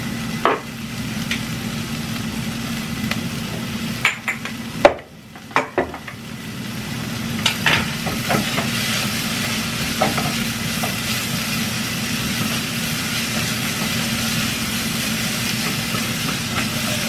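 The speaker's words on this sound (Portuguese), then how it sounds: "E aí eu já frito a cebola e o alho já com os temperos, tá?" Onion and garlic fry with seasonings in a pan, giving a steady loud sizzle close by, broken by a few sharp clacks and stirring scrapes partway through before the hiss settles back evenly.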